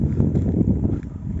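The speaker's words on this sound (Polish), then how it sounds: "O, ale wieje." Strong squall wind buffets the microphone outdoors beneath heavy storm clouds, a dense low roar with gusty surges through the short stretch.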